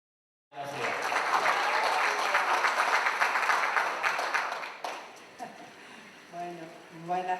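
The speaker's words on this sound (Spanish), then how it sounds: "Fuertes los aplausos para la diputada provincial y profesora Silvia Araceli Rojas." Applause at a political-educational congress erupts into a loud dense wash of clapping for several seconds, then thins out and fades as a voice begins speaking.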